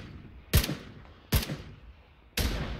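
Three sharp, distant-sounding gunshots in the PUBG battle royale game, spaced unevenly across a few seconds, each with a short echoing tail over a quiet background, with no talking.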